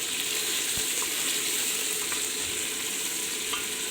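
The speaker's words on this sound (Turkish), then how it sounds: "Öncelikle tenceremizi, etimizi ve soğanımızı aldık, kavuruyoruz." A continuous, even sizzle of meat and onions frying in a pot, with faint clicks and light stirring sounds.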